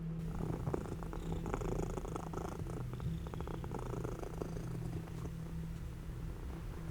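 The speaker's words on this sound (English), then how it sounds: "I got my cat purring" A cat purrs steadily and close up, a low continuous rumbling vibration with no other sounds.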